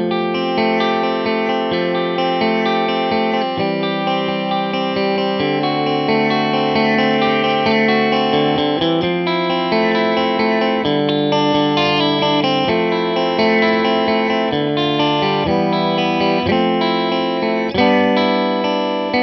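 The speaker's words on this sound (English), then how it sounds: "To give you an idea of the clean sounds on this amp" Clean electric guitar through a Hiwatt Custom 20 amp at gig volume, with the EQ set flat: a continuous run of ringing, full chords and notes with a shimmering, chorus-like sheen, loud and close.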